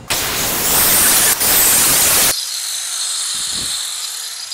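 A right angle die grinder with a Lennox cutter bit cuts metal on a Jeep Wrangler YJ, a harsh loud hissing grind for a couple of seconds with a short break, then stopping into a fading high whine as the tool spins down.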